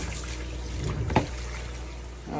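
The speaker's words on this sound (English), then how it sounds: "then I'm gonna put it back into the fish tank" Conditioned tap water is poured back into a home fish tank, a continuous close splashing trickle with one brief sharper splash partway through.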